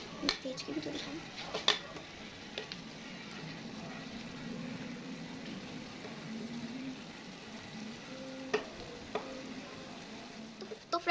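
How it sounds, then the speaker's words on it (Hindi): Masala for beef pulao fries in a pot, giving a soft, steady sizzle with occasional clinks of stirring, quiet and close. "अब हम इसको 5 से 10 मिनट अच्छी तरह भूनेंगे"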